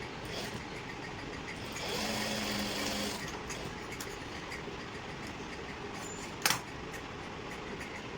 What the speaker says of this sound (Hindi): इसको हम ऐसे उल्टा करके सिलाई लगा लेंगे।